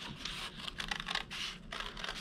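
Scissors cutting a hole in the middle of a paper plate for a craft, a faint, close run of scratchy snips and rustling paper with no speech.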